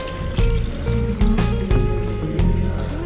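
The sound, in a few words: water poured into a bowl for rasam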